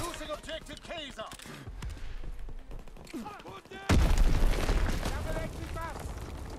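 Bomb explosions and gunfire in Call of Duty WW2 multiplayer, with rattling shots and voices at first, then a heavy booming blast that sets off a loud sustained rumble of battle noise.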